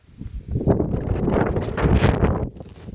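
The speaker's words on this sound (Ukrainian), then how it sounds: "вже вітер починається" Gusts of wind buffet the microphone in rough, low rumbling surges that rise and fall for a few seconds.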